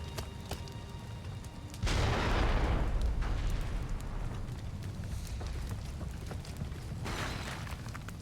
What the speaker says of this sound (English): I wonder if I can open some rocks or walls with the cannons